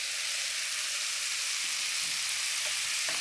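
Sesame seed oil sizzles steadily in a hot pan for a beef and bean sprout stir fry, a continuous bright hiss held at even loudness throughout with no talking.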